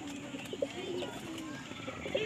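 A white short-bodied female pigeon coos softly in a few short murmurs, close by, while a person talks over it.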